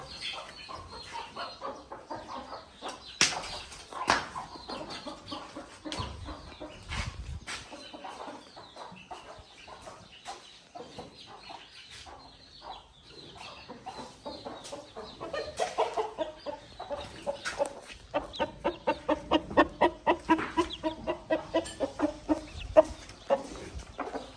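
Roosters and hens on a farm, clucking and crowing near and far in irregular bursts, with occasional wing flaps and a busier run of rhythmic clucks toward the end.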